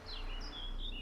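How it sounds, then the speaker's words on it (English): Birds sing outdoors in the video game The Witcher 3, a few short bright chirps over a steady ambient hum, with no talking. "It's lovely out here. The birds singing, the bees buzzing."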